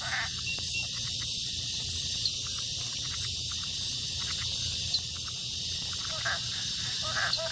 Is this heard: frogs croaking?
yes